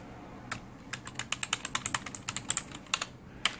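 Someone types on a Dell SK-8135 computer keyboard: a quick, uneven run of close, crisp key clicks with short pauses between bursts.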